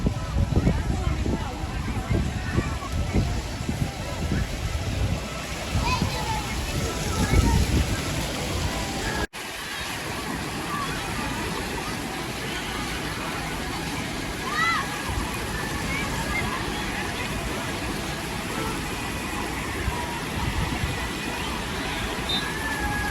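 Water splashes and sloshes continuously at a waterpark, loud and close. The wash thins slightly after a brief cut. People talk and shout over it.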